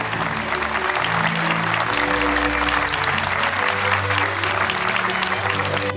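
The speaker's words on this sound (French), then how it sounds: "vous pouvez vous applaudir" Audience applause at a Venetian mask gathering in the Jardin St. Adrien garden in Servian, France; dense, steady clapping from a crowd fills the whole stretch at even loudness, with music tones running underneath.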